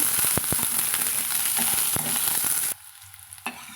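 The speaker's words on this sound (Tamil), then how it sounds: "வெங்காயம் நம்மளுக்கு நல்லா ஓரளவுக்கு கோல்டன் ப்ரௌன் கொண்டு வதங்கி வரதுங்க" Onions sautéing in a pan until golden brown, a steady crackling sizzle with occasional stirring clicks that cuts off sharply near the end, leaving a quieter hiss.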